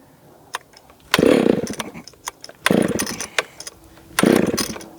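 A Husqvarna 2100 race chainsaw engine bursts to life three times in short, loud revving spurts, each dying away as if starved of fuel, with quieter sputters between.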